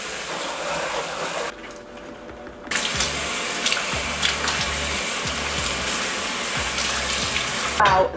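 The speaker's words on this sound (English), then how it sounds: "And then I rinse them thoroughly because this is really like foamy." Vegetables being rinsed under running tap water during plant-based meal prep: a loud, continuous rush of water that cuts out briefly and then returns, with a low hum underneath.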